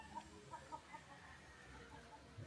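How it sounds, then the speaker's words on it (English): A fighting rooster perched on a roof in a Dominican Republic mountain town gives soft, scattered clucks, faint and somewhat distant, against quiet outdoor background noise. "I was trying to figure out why this rooster's up here on this"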